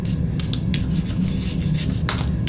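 Debris is scraped and brushed off the top of a blacksmith's anvil in a forge setting, a close, continuous rubbing scrape with several sharper scratchy strokes over a steady background hum.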